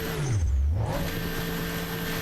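A Bugatti's big engine revs hard in a downhill car video game, the pitch dipping and then climbing into a loud, sustained roar with no talk over it.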